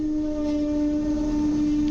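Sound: double-decker Koleje Mazowieckie passenger train

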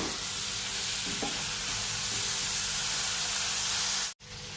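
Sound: eggplant and potatoes being sautéed and stirred in masala

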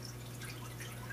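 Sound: air pump blasting carbon dioxide bubbles in aquarium tank

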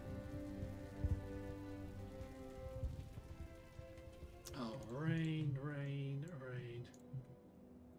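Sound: rain in video game Empire: Total War

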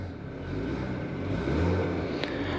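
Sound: Ford Escape 2.0L turbo 4-cylinder EcoBoost engine running

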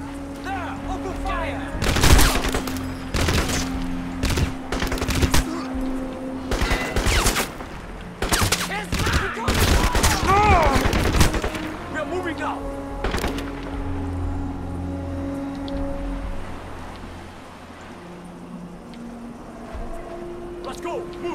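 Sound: gunfire in video game Crysis

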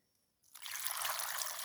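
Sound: water poured over tomatoes for salting

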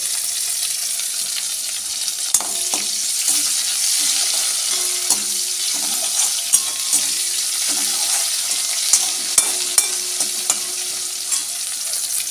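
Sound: egg and potato curry frying and being stirred

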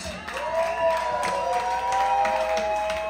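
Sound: audience applause at a live concert

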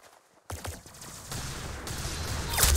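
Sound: gunfire in a video game

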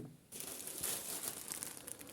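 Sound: plastic bag rustling as grapevine cuttings are taken out

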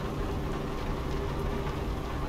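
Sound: rain in video game Euro Truck Simulator 2

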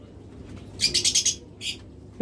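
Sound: large pet birds chirping and flapping wings

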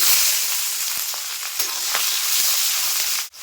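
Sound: chopped onions and nigella seeds frying in hot oil

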